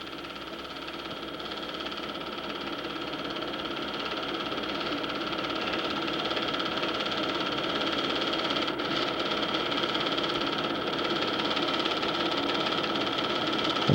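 A 4-cylinder four-wheel-drive vehicle engine runs at a steady drone with a faint mechanical whine and ticking, slowly growing louder over its length, with no speech.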